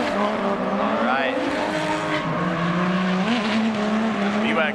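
JZ-engined drift cars slide around a track with a steady, loud engine drone and tire noise throughout, while a commentator talks over the cars.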